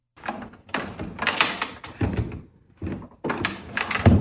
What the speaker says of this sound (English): Opening drawers.